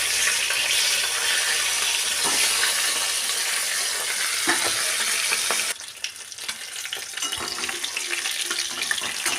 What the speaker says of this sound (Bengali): আমি একটু একটু করে উল্টে পাল্টে মাছগুলোকে ভেজে নিচ্ছি